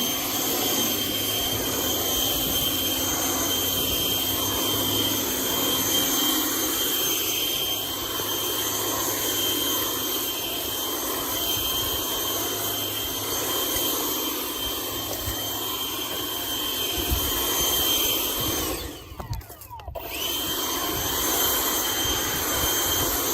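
A KRESS 850 CFM blower runs steadily at power level 2, giving a loud, continuous whooshing roar with a high whine that keeps a constant pitch close by and dips only briefly near the end.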